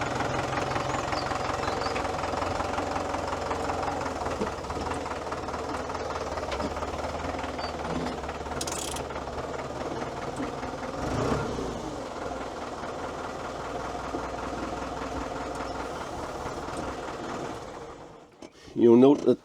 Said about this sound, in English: You'll note the difference in engine revs between the right hand pedal and the left hand pedal.